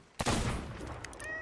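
A ship's cannon fires in the pirate video game Sea of Thieves, one sharp loud blast that fades quickly into a short rumbling tail.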